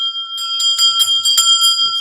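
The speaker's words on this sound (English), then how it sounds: "ring the bell" A bell rung repeatedly in a quick series of bright, sustained metallic strikes, each ringing on and overlapping the last, fairly loud and close for about two seconds.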